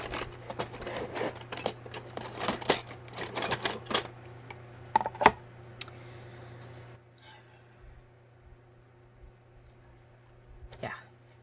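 Paper is trimmed at a crafting desk with a flurry of crisp, sharp clicks and snips, busy and close at first, then thinning to a few isolated cuts over a quiet background.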